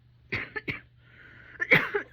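Several harsh, raspy COPD coughs close up, two quick ones followed by a longer, wheezy hacking cough.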